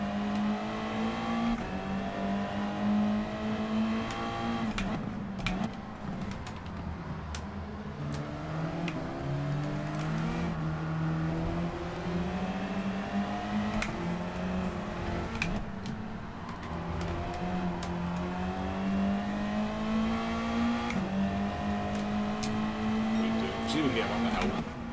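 A Mazda race car in Gran Turismo 7 drones steadily in a Group 4 race on the Grand Valley Highway reverse circuit, its engine note rising and dipping through gear changes under continuous talk.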